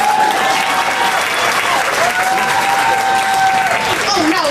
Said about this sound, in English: Can you clap, or are you too tired?